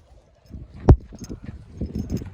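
A working mare's hooves clip-clop in a few uneven, moderately close knocks, one sharp strike standing out, with faint murmuring in the background.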